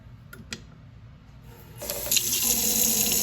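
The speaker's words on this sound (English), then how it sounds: "we can turn the water on and run the garbage disposal" Kitchen tap turned on after a couple of clicks, water rushing steadily into a sink under a garbage disposal, the flow building from quiet to a loud continuous splash.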